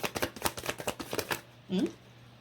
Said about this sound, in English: Let's just shuffle some more cards now.